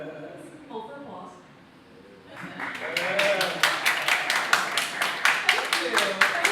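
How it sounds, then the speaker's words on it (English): Comedy club audience in New York clapping after a joke, a few scattered claps building into a rhythmic round of applause, with speech and laughter near the start. "Hold for applause."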